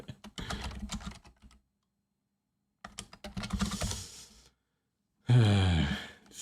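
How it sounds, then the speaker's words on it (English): Keycaps are pried off a computer keyboard in two clusters of close, crisp clicking and clattering, separated by silence, followed by a brief louder breathy burst like a sigh. "remove caps on this keyboard."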